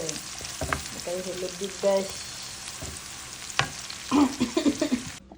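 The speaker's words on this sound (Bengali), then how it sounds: "লাল লাল করে একদম মাছের ভাজতেছি" Fish fries in a hot pan until browned, giving a steady crackling sizzle with occasional clinks and scrapes of stirring and a few brief background tones.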